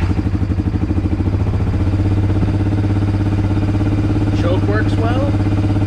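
A Suzuki King Quad 400 ATV engine, with the choke on and a battery held on temporarily, runs loudly and close, a steady low throbbing idle that continues throughout, with a brief voice near the end.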